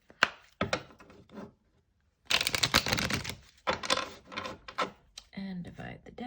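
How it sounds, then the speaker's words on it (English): A tarot card deck is shuffled in a few brisk riffling bursts with short pauses between, close and fairly quiet. "one last shuffle."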